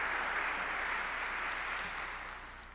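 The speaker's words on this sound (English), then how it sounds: "So please, a round of applause for" At a Wichita State University Fairmount College Hall of Fame ceremony, an audience applauds previous inductees; the dense clapping sounds soft and somewhat distant, gradually fading toward the end.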